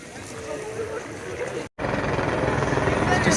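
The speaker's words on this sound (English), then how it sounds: "Just constant helicopters." Helicopters circle over the 2023 24 Hours of Le Mans centenary race circuit, a steady rotor drone that breaks off for a moment and then returns as a constant overhead rumble.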